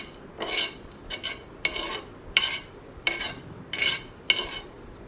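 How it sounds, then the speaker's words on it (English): Coriander seeds dry-roasting in a pan while being stirred, about seven rhythmic scraping sweeps of a utensil with faint rattling of seeds between strokes, nearby and alone. "After roasting coriander seeds for a couple of minutes, mom says you should be able to break the coriander seeds."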